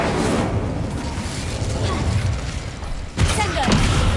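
Incendio fire spell cast in the Hogwarts Legacy video game: a loud, steady roaring blast of fiery noise that swells into a sharper burst near the end.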